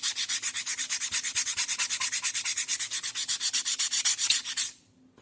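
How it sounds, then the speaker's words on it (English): Depron modelling foam being hand sanded to bevel an edge, a fast, even back-and-forth rasping of about four strokes per second, close and loud, stopping abruptly at the end. "A little bit of sanding here."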